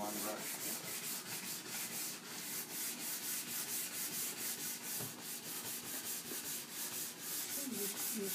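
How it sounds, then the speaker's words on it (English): A nylon brush scrubs race wax on a ski base in quick, rhythmic back-and-forth strokes, a soft, steady rubbing and brushing sound heard close up. "I polish it with the nylon brush."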